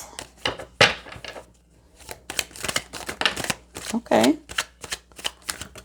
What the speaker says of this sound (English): Well, I'm dropping cards. I don't want to drop the cards.